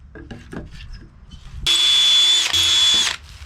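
A power drill drives a screw into a 2x4 on a firewood rack: a few light knocks and handling sounds, then a loud whirring burst of about a second and a half that stops briefly and cuts off.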